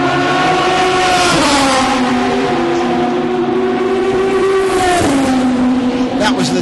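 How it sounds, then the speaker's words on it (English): A Dome Judd race car passes at a racing circuit, its loud high-revving engine note sweeping steadily and dropping in pitch as it goes by, with other engine noise behind it. "That was the Dome Judd, that last one going by"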